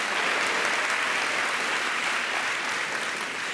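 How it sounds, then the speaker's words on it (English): Sustained, even applause from a keynote conference audience, a broad wash of many hands clapping at steady moderate loudness for the full stretch. "how about we give a huge round of applause for all of our newly certified Workday pros"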